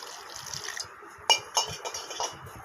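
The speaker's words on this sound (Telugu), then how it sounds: "ఇప్పుడైతే కొంచెం వాటర్ వేస్తాను." Water poured onto crushed jaggery with cardamom in a pot, heard as a soft, close trickle with a few light clinks of metal against metal.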